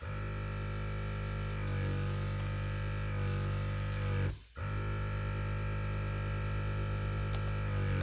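Airbrush spraying paint for scale models with its lever pulled back, giving a steady, close hiss of air over a low hum that briefly cuts out once midway before resuming.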